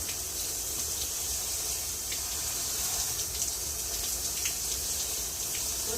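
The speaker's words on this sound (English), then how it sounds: "What I'm going to do is just rinse this pumice until the water is completely clear." Water runs steadily from a tap while pumice is rinsed during a bonsai repotting of a yucca stump forest, a continuous close hiss and splash with no break.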